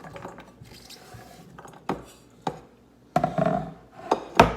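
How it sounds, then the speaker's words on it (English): Knife scrapes and clattering knocks as chopped root vegetables are pushed off a board and dropped into a pot, a few irregular thuds with rustling between. "My chopping board is full, so I'll transfer it into the pot."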